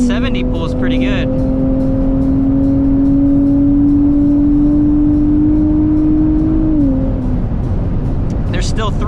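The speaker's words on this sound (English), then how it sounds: "Even 70 pulls pretty good." Nissan Z pulling hard on a highway, a loud engine tone climbing steadily in pitch for several seconds before a gear change, with wind roar and brief voice sounds at the start and end.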